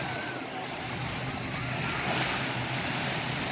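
Steady wash of surf at a state park beach with gusty wind across the microphone, a broad continuous roar at moderate level.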